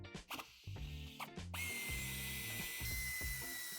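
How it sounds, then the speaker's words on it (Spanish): A power screwdriver removing two screws from the hybrid wiring protection cover on a 2024 Audi A5 sedan: short whirring bursts, then a longer sustained high drill whine, close but fairly quiet. "Para ello tendremos que quitar los 2 tornillos."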